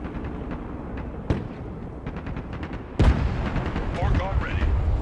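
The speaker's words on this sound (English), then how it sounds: "Artillery moving out." Artillery fires in the Broken Arrow war video game: two heavy booms land about two seconds apart over a dense, rumbling battlefield background that swells louder after the second blast.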